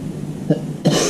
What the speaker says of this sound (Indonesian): saya ini agak batuk setelah lebaran ini